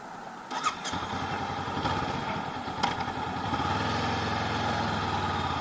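A 2019 Honda CB500X motorcycle engine runs steadily and fairly loud, with a brief rev near the start, then a continuous droning engine note that holds on as the bike gets underway, with no talking.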